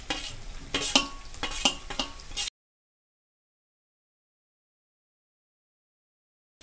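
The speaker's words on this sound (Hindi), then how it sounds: "अच्छे से भून लेंगे सारे वेजिटेबल को।" Carrot, cabbage and onion stir-fry in a pan with busy clattering spoon strokes over a sizzle for about two seconds, then everything drops to silence.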